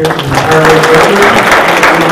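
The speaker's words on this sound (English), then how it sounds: "I think a round applause for Mark" An audience claps loudly and steadily, a dense, sustained round of applause with no gaps.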